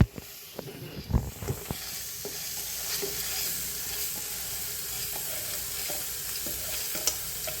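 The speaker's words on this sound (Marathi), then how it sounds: "आता आपलं बेसन या ठिकाणी परतत आलेलं आहे. यामध्ये आता आपल्याला मटकी टाकायची आहे." Moth beans hit a pan of frying gram flour, then a steady sizzle runs under repeated scraping and stirring strokes from a spoon, close and fairly loud.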